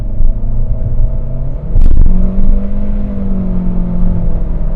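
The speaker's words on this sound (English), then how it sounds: "it did go fast at the start, but then the turbo kicked in quite late" An Omoda C5 engine in sport mode revs hard and accelerates with a deep, loud rumble, a whooshing surge partway through as the turbo spools up late.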